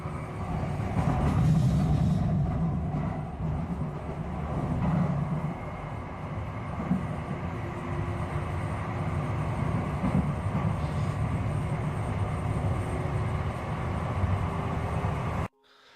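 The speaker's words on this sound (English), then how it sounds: "So he's just on a subway." A subway train rolling through an underground tunnel gives a steady, loud rumble with rattling carriages, continuous across the whole stretch and ending abruptly, with no talk over it.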